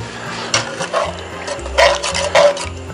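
Light cream, nearly a whole pint, pours into catfish and shrimp chowder in a Dutch oven, a close, soft liquid splashing that comes in a few uneven surges over a low background hum.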